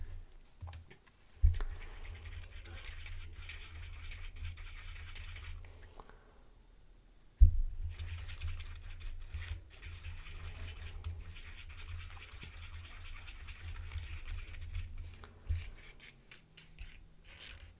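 Holographic glitter being stirred into homemade nail polish makes soft, close scratchy rubbing in two stretches, split by a brief quiet pause.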